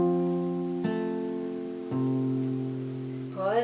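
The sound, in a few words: fingerpicking guitar pattern, played slowly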